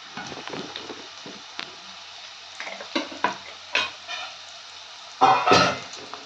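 Ginger-garlic paste frying in hot oil for chicken biryani, a soft steady sizzle under scraping and stirring strokes, with a louder burst of sizzling near the end, close by and with no talk.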